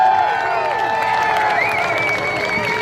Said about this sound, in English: I want you to give them the biggest round of applause you can give them right now.